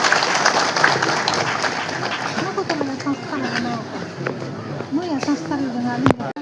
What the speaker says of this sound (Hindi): जोरदार जोरदार तालियों से स्वागत करिए